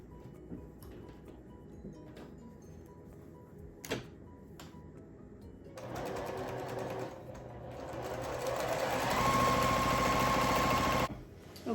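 A sewing machine stitches a quilt block along a diagonal line, first a few scattered clicks and handling knocks, then a fast, steady mechanical whirr that speeds up and runs loud and close for several seconds before stopping abruptly.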